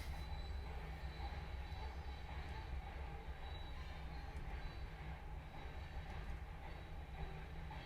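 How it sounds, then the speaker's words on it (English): A train rolling past outdoors, a continuous rumble with wheel squeal and faint rhythmic clatter, steady and fairly distant, low in level with no clear talking over it. "How many times a day does the train come by here?"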